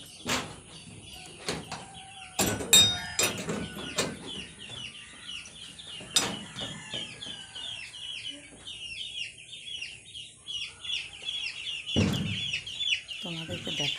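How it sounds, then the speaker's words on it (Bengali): Baby chicks and ducklings peeping behind a door, a dense run of high, rapid chirps that continues throughout at close range, broken by a few clatters and a voice talking. "পিক পিক করে একটা আওয়াজ হচ্ছে"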